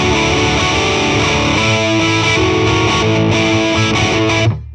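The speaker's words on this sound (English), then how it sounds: "The lick that we just worked on gets played again, but with distortion." Electric guitar lick played through heavy distortion, a loud sustained sequence of thick saturated notes ringing on without pause, then cut off abruptly at the end.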